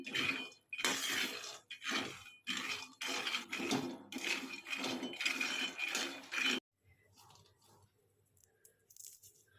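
Dry peanuts rattle and clink against a pan in rhythmic bursts as they are stirred and roasted for laddoos, fairly close and faint, then go quiet for the last few seconds.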